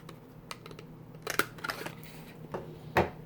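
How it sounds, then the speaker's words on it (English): A 1 inch or 3/4 inch punch pressing a finger-hold divot into a paper treat box gives a few faint clicks and crunchy snaps, the firmest near the end, in a quiet room. "we're going to take a 1 inch or a 3/4 inch punch, and we're just gonna make a little divot for our finger hold"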